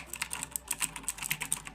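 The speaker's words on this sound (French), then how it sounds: "clavier mécanique, comme on peut entendre" Rapid typing on a Razer BlackWidow Chroma mechanical keyboard: a quick, close run of sharp clicky keystrokes, about a dozen in under two seconds, in an uneven rhythm with no talking.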